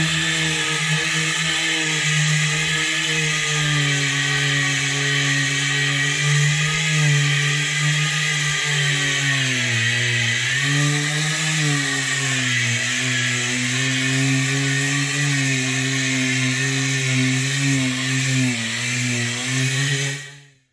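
A worn, struggling floor sanding machine runs in a loud, continuous whining drone close by, its pitch sagging and recovering a few times before it cuts out abruptly at the end.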